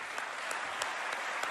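Applause from the audience at the Globe Soccer Awards 2024 ceremony: steady clapping from a crowd held at an even level for a moment, with a few sharper claps standing out.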